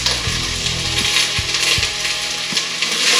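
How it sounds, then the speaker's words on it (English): Onions soften in a hot pan for a curry, giving a steady close sizzle and hiss with scattered small pops and spits. "we're going to soften the onions up in the pan"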